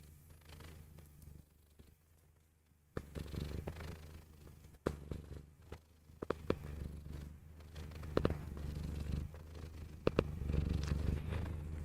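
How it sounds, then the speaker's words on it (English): A relaxed cat purring while lying belly up indoors, a soft, steady low rumble close to the microphone, quiet at first and then fuller, with occasional small knocks and rustles. "Dolly Purring Show. Wednesday edition"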